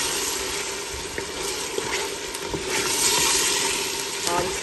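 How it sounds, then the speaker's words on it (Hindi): Garlic ginger paste and spices are stirred in a cooking pot while making chicken biryani. A continuous close sizzle carries soft scraping stir strokes at a fairly even loudness throughout. "इसके अंदर डाल देंगे और इस पर से मिक्स कर लेंगे"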